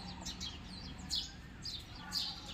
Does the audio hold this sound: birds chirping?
yes